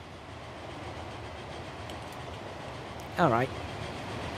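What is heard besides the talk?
trains running in video game Transport Fever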